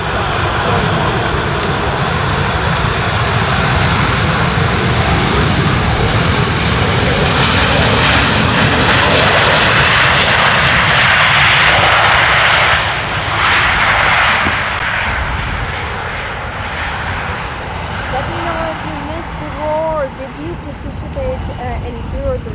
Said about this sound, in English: Ryanair, ladies and gentlemen, landing in from Dublin to Amsterdam, a Boeing 737